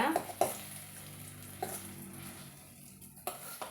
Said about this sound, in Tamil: நல்லா கலந்து விட்டுறலாங்க